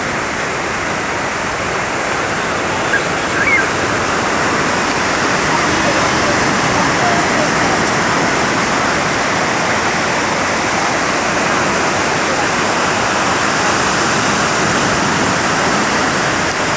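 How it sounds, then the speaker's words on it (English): Rough sea surf at Field 5, Jones Beach, a continuous loud broadband roar and wash of breaking waves with no talk, steady throughout. "See how rough the water is?"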